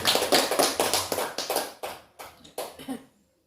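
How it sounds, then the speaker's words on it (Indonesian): A small audience at a teachers' dissemination session applauds a presenter with quick, uneven claps, close and moderately loud, for about three seconds before stopping. "jadi kita kasih aplaus dulu untuk Pak Syamsul"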